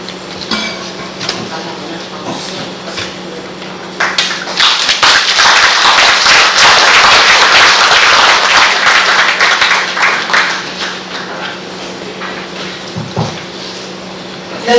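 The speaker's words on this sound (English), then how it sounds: "Ramon another big round of applause" An audience at an International Women's Day event breaks into loud applause. A few scattered claps come first, then a full round of clapping takes over and runs for about ten seconds before fading to a few taps.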